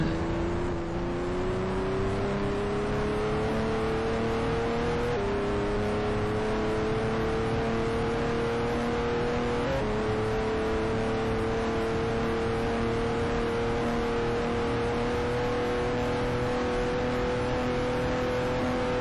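A Porsche 911 in the Speed Dreams racing game revs loudly and continuously, its engine note climbing steadily through two gear shifts, with no voices present.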